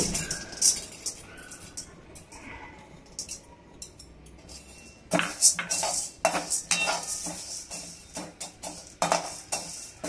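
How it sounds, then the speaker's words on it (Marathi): Toor dal dry-roasting and being stirred in a pan for Maharashtrian bhajani, with a metal spoon repeatedly scraping and clinking against the pan; quieter at first, then a busy run of close, sharp scrapes and knocks. "आता याला आपण 2 ते 3 मिनिटं परतून घेऊया"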